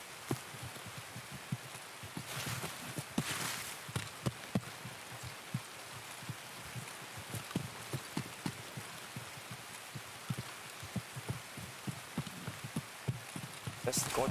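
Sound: rain falling on grass in video game Escape from Tarkov

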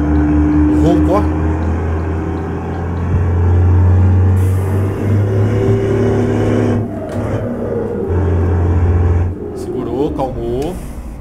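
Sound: truck engine roar in Euro Truck Simulator 2 video game

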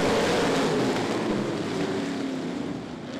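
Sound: sportsman race cars racing at a speedway

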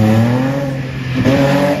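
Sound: Audi R8 rally car drifting

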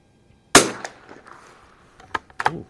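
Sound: H&R M-12 .22 target rifle shot with Aguila ammunition

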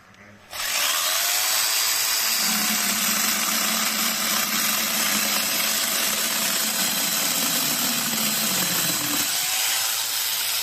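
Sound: chainsaw attachment on grinder cutting wood

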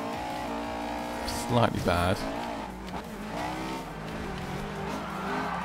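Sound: race car engine and tire squeal in Forza Horizon 2 video game

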